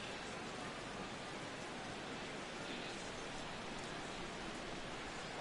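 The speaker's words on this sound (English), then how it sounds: "This has got to be the hardest rain we've seen all afternoon." Heavy rain falls during a baseball game in MLB 17, a faint, even hiss of downpour that holds steady throughout with no voices over it.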